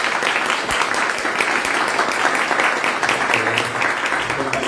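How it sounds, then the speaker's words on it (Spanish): Audience applause at a book launch for 'Diccionario íntimo de una rebelde': a dense, steady wash of many hands clapping, fairly loud and sustained throughout with no break. "La profesora Maite Rebelle Manta, para que pido un fuerte aplauso."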